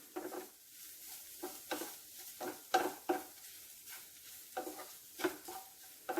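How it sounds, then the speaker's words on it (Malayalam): Grated coconut being stirred into a kothamara (cluster bean) and carrot thoran in a pan, giving soft repeated scraping strokes with a light sizzle underneath, close and fairly quiet, no voices. "നമ്മൾ ഇതിലേക്ക് തേങ്ങ ചേർത്ത് കൊടുക്കുകയാണ് ചെയ്യുന്നത്. ഇനി നമുക്ക് നല്ലതുപോലെ മിക്സ് ചെയ്യാം."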